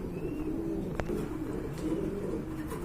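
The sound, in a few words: fantail pigeons cooing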